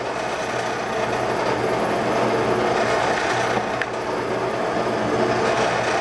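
A Rivett 1020F metal lathe runs slowly in back gear, giving a steady, moderate mechanical hum and whir with a low tone, plus one brief click partway through.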